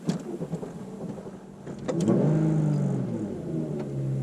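A Volkswagen Corrado VR6 fitted with a RamAir intake cranks and catches about two seconds in, then settles into a loud, steady, rumbling idle close by.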